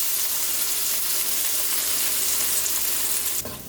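Anchar masala is tipped into garlic frying in a pot, giving a loud continuous sizzle that drops off abruptly near the end.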